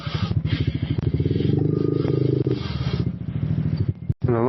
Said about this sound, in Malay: motor tak boleh start